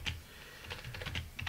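Quick bursts of typing on a computer keyboard, a handful of close keystrokes clustered in a short span over a quiet room.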